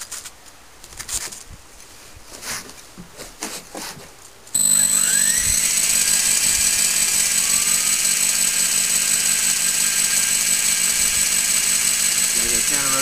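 Model helicopter motor and rotors spin up in a throttle test, a steady loud high-pitched whine with tonal rotor hum starting abruptly after a few seconds of background noise, then holding constant.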